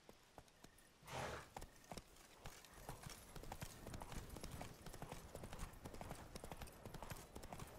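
A horse gallops in the Witcher 3 game, with rhythmic hoof clip-clops continuing steadily at low volume after a brief rustle near the start.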